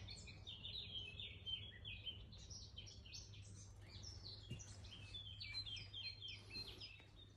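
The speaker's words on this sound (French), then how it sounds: "On entend le calme et les oiseaux." Birds chirp and tweet continuously in quiet open countryside, several calls overlapping at a moderate distance over a low steady hum.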